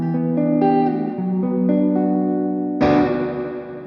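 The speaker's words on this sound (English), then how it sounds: "I instantly know that that's like a spring reverb." Electric guitar through an Amplitube 5 Orange amp simulation with spring reverb: sustained chords ringing with a wash of reverb tail, then a sharp new strum blooming loud and decaying, with no talking.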